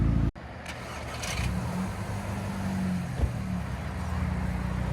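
A 2007 Audi A3 2.0 Turbo with straight-pipe exhaust rumbles steadily close by after a brief start, a deep low drone holding at idle with a slight blip near the end.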